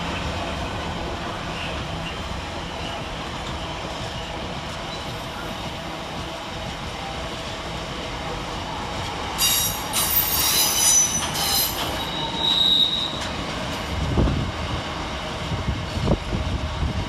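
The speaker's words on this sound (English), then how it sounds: "we see the arrival of 172211, terminating with the West Midlands Railway service from Leamington Spa." West Midlands Railway train 172211 from Leamington Spa pulls into Nuneaton station with a steady rumble, then high wheel squeals ring out midway as it slows, followed by low clunks and rolling noise.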